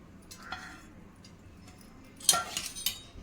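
A spoon mixes a sabudana and mashed potato batter with ground chili in a bowl. Quiet soft stirring leads to a few sharp, close clinks near the end. No voices.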